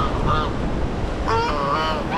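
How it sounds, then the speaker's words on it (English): A flock of geese on a beach in Hua Hin, Thailand, honks in two clear bursts, the calls close and loud above a soft wash of wind and waves. "They're geese."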